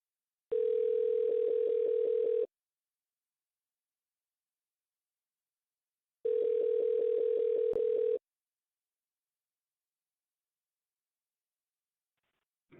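Telephone ringback tone heard while calling a scammer back: two long buzzing rings about two seconds each, separated by a silent gap, clear and alone with no talk.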